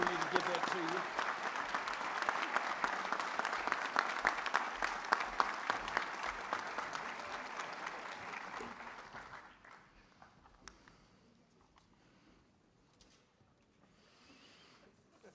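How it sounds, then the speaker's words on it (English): Applause from a graduation audience at a DCFR fire academy class ceremony, a dense, loud round of clapping that holds steady for about nine seconds and then dies away to a quiet room. "Let's give Brad a round of applause."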